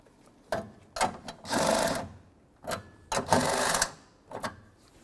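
Bracket bolts on a 2003-08 Toyota Matrix front window regulator are tightened with a ratcheting tool, close and moderately loud, in two bursts of quick clicks each followed by a longer whirring rasp.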